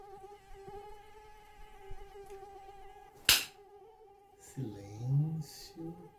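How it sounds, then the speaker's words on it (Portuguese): A thin, steady fly buzz drones through the quiet, broken by a sharp click and a soft voice murmuring toward the end. "escuta um zumbido da mosca"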